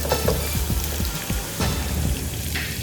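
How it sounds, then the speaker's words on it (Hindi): Chopped onion hits hot oil in a pan for a home-style moong or masoor dal, giving a steady, close crackling sizzle with small pops throughout and no talking. "ऑयल हमारा गर्म हो चुका है। अब इसमें मैं डालूंगा 1 अदद प्याज जो मैंने काटी थी।"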